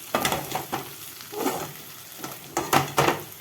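Potato and brinjal fry with masala being sautéed in a pan: close sizzling with repeated scraping stir strokes in short irregular bursts, no voices.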